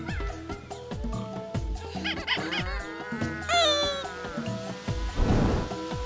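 Cat meowing in the PC video game Postal 3, a few rising meows standing out over busy game music and effects, moderately loud throughout.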